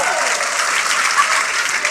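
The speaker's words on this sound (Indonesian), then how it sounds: "Tepuk tangan tuh yang kenceng ini nih" Loud, dense applause from a church congregation, steady and sustained throughout with no break or voices over it.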